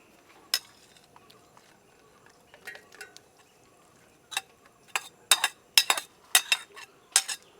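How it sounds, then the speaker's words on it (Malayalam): A cooked egg mixture is spooned into a mixer jar: a scatter of faint scrapes, then a quick series of loud metallic clinks and taps near the end. "ഇനി നമുക്കിത് എടുത്തിട്ട് ഒരു മിക്സിയുടെ ജാറിലേക്ക് ഇട്ട് കൊടുക്കാം."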